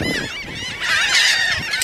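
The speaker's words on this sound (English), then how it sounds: "Feed the hungry ducks." Geese and ducks squabble noisily over thrown food, a dense overlapping chorus of close, loud honks and squawks that swells midway and stays busy throughout.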